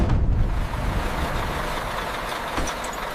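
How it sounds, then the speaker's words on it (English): Ship's pumps run during a large ship restoration, a loud continuous low mechanical rumble and drone that holds steady throughout, heavy and close with no voices over it. "Pumps are fully engaged now."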